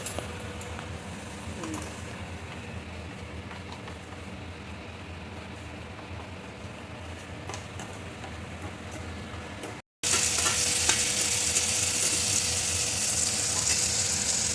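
Spices with white and black mustard, chili and tomato paste fry with onion for a mustard fish curry, a steady soft sizzle that cuts out briefly and returns louder and hissier.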